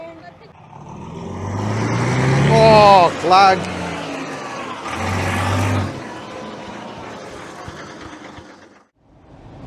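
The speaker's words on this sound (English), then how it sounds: "The Leyland Super National has just arrived." A Leyland Super National bus engine growls close by, its note climbing and falling as the bus pulls in and then fades to a low idle, with people talking over it.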